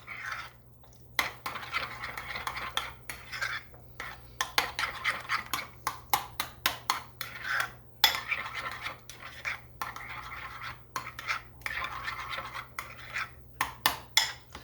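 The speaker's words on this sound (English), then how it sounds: "I'm just going to stir this up." Spoon stirring a Norwegian shrimp pasta salad with dill relish in a bowl: close, repeated scraping and clinking strokes in an uneven rhythm, with no talking.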